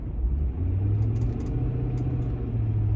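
Road traffic passes by with a continuous low rumble of car engines, fairly steady and moderately loud throughout, no talking.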